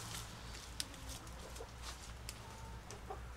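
Chickens cluck softly in a rural farmyard, a few scattered clucks and faint calls over a low steady background hum, fairly distant and quiet, with no speech.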